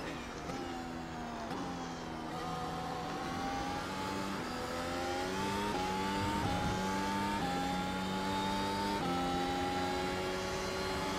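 A Mercedes W12 Formula 1 race car in iRacing, its engine whining high and steady, pitch rising through each gear and dropping sharply at every upshift, with repeated shifts under constant throttle, heard close from the cockpit.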